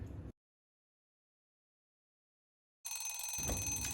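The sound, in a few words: teapot kitchen timer ringing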